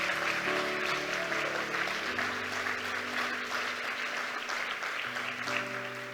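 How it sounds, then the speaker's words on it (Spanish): Sustained applause from a church congregation fills the space, steady and dense throughout, with sustained musical tones beneath the clapping. "Un aplauso de hospital, aplauda bien."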